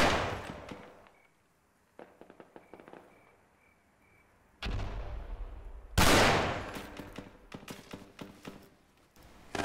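Sharp gunshots crack in a World War II video game, scattered single reports and short bursts with quiet gaps between them, loud near volleys around the middle and later.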